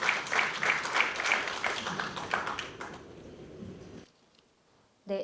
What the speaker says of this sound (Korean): 교수님께 뜨거운 박수 부탁드리겠습니다